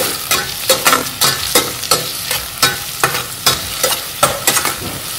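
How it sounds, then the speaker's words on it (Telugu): Onions sizzle in hot ghee in a pan, a steady frying hiss broken by regular stirring scrapes and clatters roughly every half second, close and moderately loud with no talk. "నెయ్యి బాగా వేడిగా అయింది. ఆనియన్ వేసేసుకోండి."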